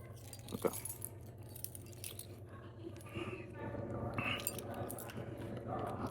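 A bunch of keys jangles and clinks close by in a steady rustle while voices murmur in the background, as someone handles keys at a drink machine.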